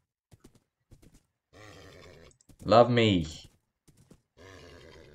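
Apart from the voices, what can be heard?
horse neighing and hooves in Minecraft video game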